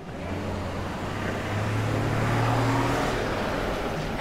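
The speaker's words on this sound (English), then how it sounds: "And a city bus." A city bus passes along a street in a barrio of León, Nicaragua, its engine swelling into a loud, rumbling drone before slowly easing off, alone with no talk.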